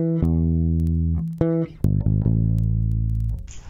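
A bass guitar plays a single bar of a song, with clean sustained notes, a few quick plucked changes and a short run at the end, heard alone and up close.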